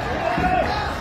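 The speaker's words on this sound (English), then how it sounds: "But you can hear the crowd pumping him up." Crowd at a National Ninja League regional competition cheering a climber on a vertical wall, a steady roar of voices and shouts with a brief rising whoop, loud and continuous through the short moment.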